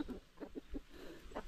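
Free-range chickens cluck in short, soft bursts close by, several low calls spaced through a quiet coop setting with no talking.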